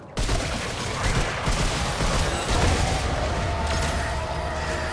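Gunfire aimed at a root nexus in the video game Remnant 2, a rapid, loud burst of shots running continuously over about five seconds.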